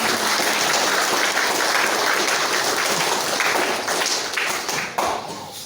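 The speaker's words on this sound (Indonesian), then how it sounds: "Beri tepuk tangan dulu." An audience of parents and staff at a vocational high school graduation announcement applauding the graduating students, a dense, continuous round of applause from many hands that fades slightly toward the end.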